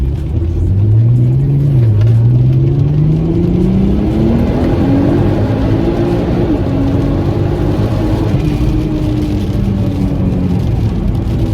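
A VW MK5 Golf R32 turbo, running with a misfire issue, drives along with a loud, steady engine drone that rises and falls in pitch as it moves through the revs, heard from inside the cabin with no talk.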